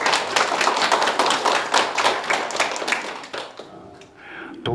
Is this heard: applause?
yes